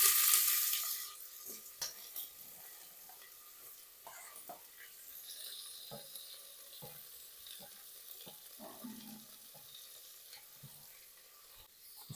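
Finely chopped medium onions sizzle and fry in a pressure cooker for mutton stew, a steady hiss that starts loud and settles lower, broken by occasional stirring scrapes and taps.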